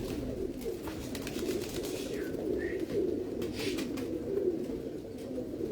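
Pigeons coo steadily on a rooftop in Lahore, a soft continuous throaty murmur with a couple of brief higher calls and faint wing flutters in the background.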